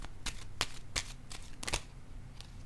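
Tarot cards being shuffled in a quiet room, a series of crisp riffling bursts about every third of a second, close and fairly soft, with no voices.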